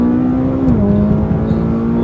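A McLaren 570S supercar accelerating hard from inside the cabin, its engine note loud and steady with a smooth pitch climb and a brief shift dip before rising again.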